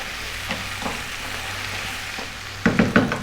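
Beef fries in a pan over raised heat, a steady close sizzle with occasional crackles and a louder stir or spatter toward the end.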